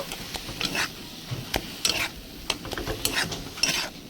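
Sour leafy greens being stirred in a hot pan, with scraping spatula strokes at an irregular rhythm over a soft steady sizzle, close and alone.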